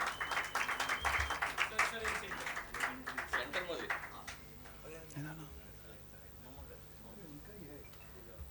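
An award ceremony audience gives a round of applause, with moderate clapping over the first four seconds that fades out, then quieter room sound and a voice.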